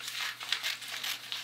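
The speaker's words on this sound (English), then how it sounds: "So I'm going to make a cut on my sleeve." Scissors cut through a fabric sleeve for a sewing alteration, giving a close, steady run of crisp rustling snips and crinkles over about a second and a half, with no talk.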